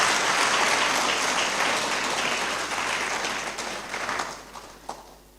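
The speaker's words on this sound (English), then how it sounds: "So a round of applause for our chair." A lecture audience gives the chair of an inaugural lecture a round of applause, a thick wash of clapping that gradually thins and fades, ending in a few scattered claps.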